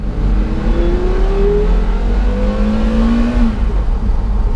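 A Porsche Carrera GT with its Le Mans-derived racing engine revs loudly and close, pitch climbing in two smooth sweeps over a steady low mechanical drone.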